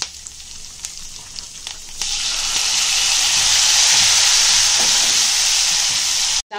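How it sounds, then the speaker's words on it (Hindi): Curry leaves and tomatoes hitting hot oil in a pan, a few faint clicks and clatters giving way to a loud, sustained sizzle and hiss that runs steadily until it cuts off abruptly, with no talk. "अभी इसमें करी पत्ता डालेंगे और टमाटर डालेंगे। टमाटर थोड़ा पकने देंगे इसको।"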